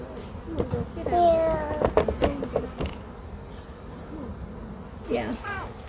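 A bee swarm buzzes near a hive box in the field, a fairly loud insect drone under bursts of conversation and a voice.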